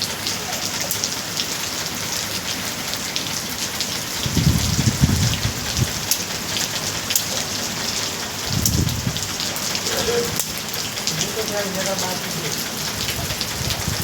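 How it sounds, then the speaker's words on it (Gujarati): Heavy rain pours without a break for days on end, a dense, even roar of drops hitting surfaces up close, with two brief low rumbles breaking through near the middle and no voices heard. "2-3 દિવસથી એક ધારો વરસાદ પડી રહ્યો છે,"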